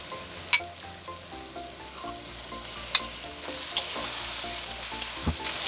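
Marinated mutton tossed into a pot with spices like cinnamon and bay leaf for mutton tahari, sizzling and frying steadily close up, with a few sharp pops and clatters of stirring and no talk.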